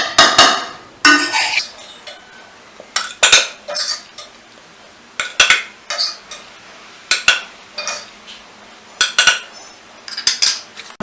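Chopped onions and tomatoes for an Andhra-style green tomato chutney being scooped into a metal chutney grinder jar, with repeated clinks and scrapes of a spoon against the jar in short irregular bursts, close and fairly loud.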